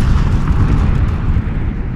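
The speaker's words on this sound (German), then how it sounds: "Was eine Verarsche, jetzt explodiert Purinki." Explosions in the PUBG battle royale game roll through as one loud, sustained, deep rumbling boom that fills the whole two seconds without letup.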